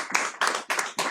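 A church congregation claps to acclaim the Lord, four broad, even bursts of many hands clapping together in a steady rhythm, fairly close and clear.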